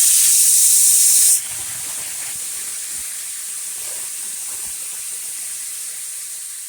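Shrimp dropped into hot spiced butter in a pan, a loud burst of hiss at first that settles into a steady softer sizzle, with no talking.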